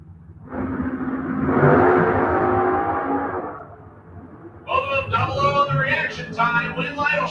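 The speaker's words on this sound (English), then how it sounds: "The pair of supercharged dragsters on the starting line." Two supercharged dragsters at a drag strip starting line, a loud rising engine roar that swells, dips, then returns as choppy, stuttering revving bursts.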